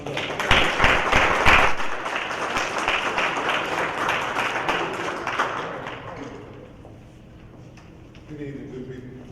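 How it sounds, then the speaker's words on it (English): An audience at an evening talk welcomes a speaker to the stage with loud, close clapping that gradually thins and fades under scattered voices, leaving a quieter room with some murmuring. "If you all can give him a round of applause and welcome him as he comes up."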